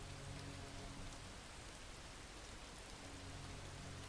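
Steady, dense video game rain hisses throughout, a constant wash of falling water with no breaks or voices.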